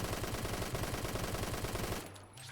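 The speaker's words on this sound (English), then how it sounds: "I'm trying to find a wall I can shoot without dying immediately." A machine pistol fires a rapid, sustained burst at a wall in the Phantom Forces shooter game, loud and evenly rhythmic for about two seconds before cutting off into quieter game ambience.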